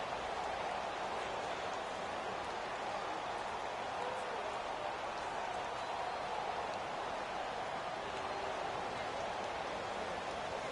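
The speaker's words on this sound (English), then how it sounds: "The rain set to continue as we are underway in the second half." Rain ambience in an EA Sports football video game, a steady uniform hiss of falling rain that holds at an even, moderate level throughout with no variation and no voices.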